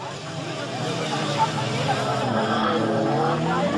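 Stock car race cars, including a Citroën CX, racing around a French track, a steady engine drone with rising and shifting pitches under continuous French commentary.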